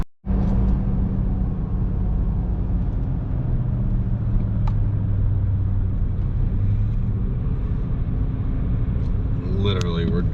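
A 2021 GMC Sierra 2500HD with the 6.6 gas engine and X31 suspension crawling along a mountain trail near a cliff edge, its low engine rumble and road noise steady and loud throughout, with brief creaks near the end.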